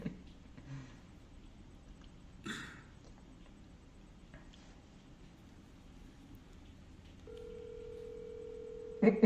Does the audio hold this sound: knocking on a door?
no